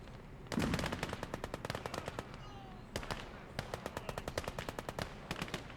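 Submachine gun fire in the WWII strategy game Gates of Hell: Ostfront, set in winter, as rapid sustained bursts rattle loudly in long strings separated by brief pauses.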